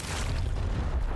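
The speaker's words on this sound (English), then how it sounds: "Throwing frag!" A frag grenade explodes in the video game Gears Tactics, producing a short, dense, loud boom with a low rumbling body across the whole brief moment.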